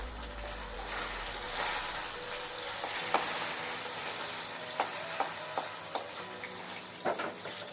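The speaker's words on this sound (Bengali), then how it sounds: "সমস্ত পাতা এইভাবে আমি ভেজে নেব।" Jute leaves frying in an oiled pan for a Bengali prawn dish, a continuous bright sizzle with occasional ticks and pops, close and alone.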